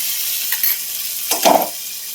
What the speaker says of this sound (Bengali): এই যে পেঁয়াজটা ভাজা ভাজা হয়ে গেছে ফোড়নটাও ভাজা ভাজা হয়ে গেছে